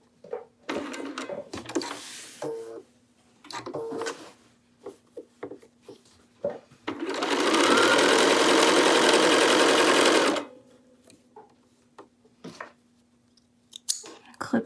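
A sewing machine runs in one sustained burst of rapid stitching along a seam, loud and close, set between quieter clicks and handling sounds.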